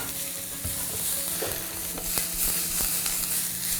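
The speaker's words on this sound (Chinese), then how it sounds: "蒜米和这个干葱末给它炒香一下，下入胡萝卜丝" Shredded carrot stir-fried with minced garlic and dried shallot in a flat frying pan, a steady sizzle with occasional scraping stirs of the utensil, close and fairly loud, no talking.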